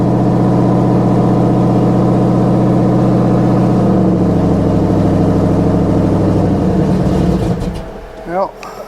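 A 2016 Toyota Tundra TRD Pro with engine problems idles loudly right after a jump start, a close, heavy, steady drone that fades toward the end as brief sounds of handling follow.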